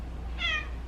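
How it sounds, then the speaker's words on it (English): A house cat gives a single short, high meow close by, set against a low steady background hum. "Meow."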